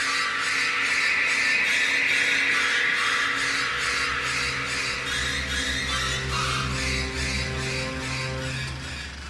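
Shrill, stabbing strings shriek in high repeated strokes, loud and sustained over a lower droning string line.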